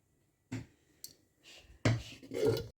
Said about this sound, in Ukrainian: Кладаємо посуду в посудомийку.